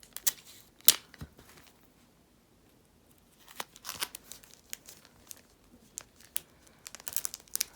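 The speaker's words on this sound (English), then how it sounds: "let's tape that one down." Tape being pulled and pressed down while wrapping a signed album, with sharp crinkling and tearing bursts, a loud rip near the start, then a quiet pause and clusters of close, crisp crackles.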